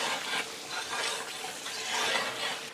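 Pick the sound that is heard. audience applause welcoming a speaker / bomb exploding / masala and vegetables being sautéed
masala and vegetables being sautéed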